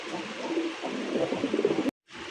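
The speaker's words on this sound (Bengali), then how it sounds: "ডাক দেখছেন আহ সেই একটা ডাক রে ভাই আকাশি কালার রাজগোল্লা" A sky-blue Rajgolla pigeon coos close by in a run of soft, rolling low calls that cut off abruptly near the end.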